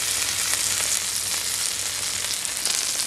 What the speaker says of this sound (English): just to make sure it gets cooked and fried like all the way around